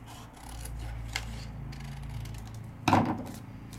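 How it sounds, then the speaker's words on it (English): Paper being trimmed with scissors during a papercrafting session, a few soft cutting rasps followed by one louder, sharper snip, close by with no talk. "So I'm gonna trim this on down because I know I don't need this much paper off the side."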